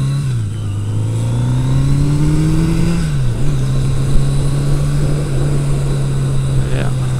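A carbureted Yamaha engine revs steadily at a sustained pitch, dips briefly and recovers, hinting at a slight misfire, loud and close throughout.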